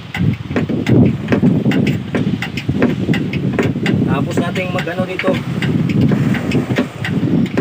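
A Honda inboard engine on a small boat runs at a steady idle, a loud mid-low drone close by, while someone talks over it.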